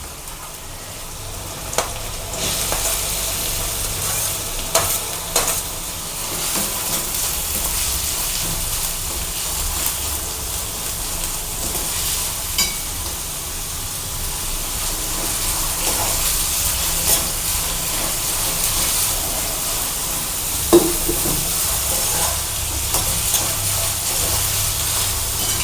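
Capsicum and chopped onions frying in hot oil for poha kachori, giving a steady, loud sizzle and hiss throughout with occasional sharp crackles and pops, and no talking.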